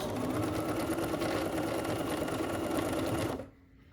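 A domestic sewing machine stitches a quilt block with a rapid, steady, somewhat clattery mechanical whir up close, then stops abruptly near the end.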